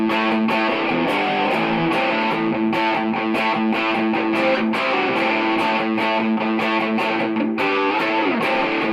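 Electric guitar played through a Joyo US Dream distortion pedal with the gain set low, around nine o'clock, giving a steady stream of overdriven chords and notes that ring continuously at a loud level, with no talking.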